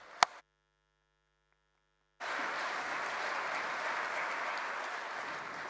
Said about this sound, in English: give yourselves a round of applause for the work you do